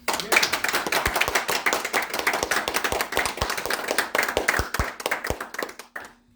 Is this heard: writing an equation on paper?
no